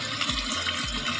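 Water is poured into a large cooking pot while friends make biryani, a short splashing gush that rises in pitch as the vessel fills, heard close and alone.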